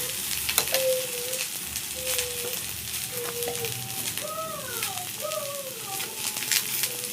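Green chilli and chopped coconut fry in a pan for a yardlong bean paste dish, a steady sizzle with stirring scrapes, while a bird's whistling calls sound faintly in the background.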